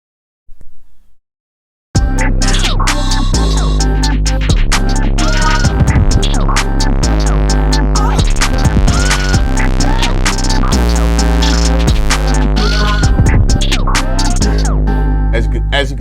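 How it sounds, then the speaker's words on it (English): A beat carries a heavy 808 bass with overdrive distortion, its grit rising and falling along with the drive. It booms loud and continuous under layered music after a brief quiet start. "This beat has different levels of distortion to the 808 to give the track a complexity that only subtle ears could hear."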